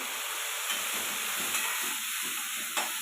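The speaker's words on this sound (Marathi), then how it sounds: "हे टमाटर आपण याच्यामध्ये टाकून घेऊ" Tomatoes tipped into a hot pan for village-style brinjal bharit give a steady, close hiss of sizzling that holds evenly throughout, with a few faint stirring scrapes and no voices.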